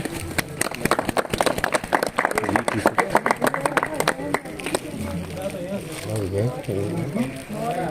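An audience claps in rapid, loud, dense bursts that gradually thin out while someone speaks over the applause and then continues talking after it fades.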